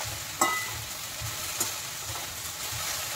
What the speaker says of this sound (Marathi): आता 2-3 मिनिटाला असंच परतत राहायचं